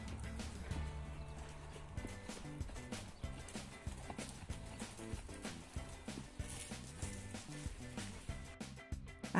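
A semi-free herd of horses moving, with rhythmic hoofbeats and faint occasional neighs under steady background music.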